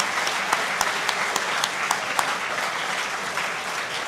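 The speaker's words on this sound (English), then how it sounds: "How about a big round of applause for all the Knights of the Golden Horseshoe?" An audience at an evening assembly applauds with steady, full clapping that continues throughout, with a few sharper individual claps standing out from the crowd.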